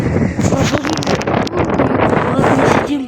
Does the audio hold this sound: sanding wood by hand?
no